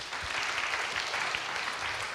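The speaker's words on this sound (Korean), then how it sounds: "박수 한번 주세요" High school students applauding in a classroom, a brief steady wash of clapping from a small group throughout.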